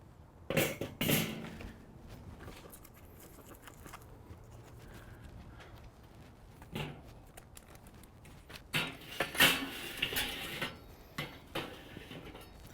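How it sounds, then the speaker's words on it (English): A metal spin grate being set onto an SnS Grills kettle charcoal grill outdoors, heard as a few scattered metallic clanks and scrapes spread out over a quiet background. "This is the spin grate. You'd want to make sure you put it on cold."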